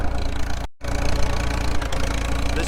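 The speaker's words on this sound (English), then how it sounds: "This tractor is a 1941 Farmall M, and it amazes me how well it runs after" A 1941 Farmall M tractor engine runs steadily nearby on a flooded farm, a loud, even low-pitched chug with a brief cutout near the start and no speech over it.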